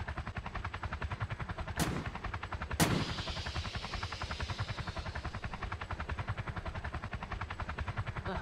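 A helicopter's rotor chop pulses steadily and loud throughout a Roblox Polybattle battle, broken by two sharp gunshot cracks, with no talk.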